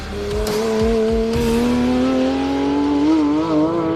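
Porsche 911 992 GT3 RS with a naturally aspirated 4-litre flat-six, a loud, smooth sustained engine note that climbs steadily in pitch under acceleration, with a few brief tyre-like squeals near the start.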